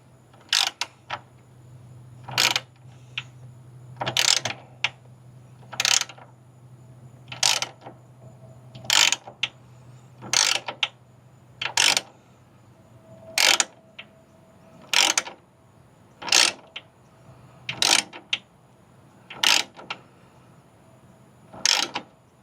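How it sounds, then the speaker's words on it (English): Riv nut tool being cranked by hand to set a rivet nut for a fender flare on a Jeep Gladiator JT, a steady series of sharp ratcheting clicks repeating roughly every second, close and clear. "use a riv nut tool, hold that tight."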